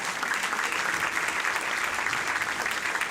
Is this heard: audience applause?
yes